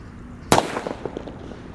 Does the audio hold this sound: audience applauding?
no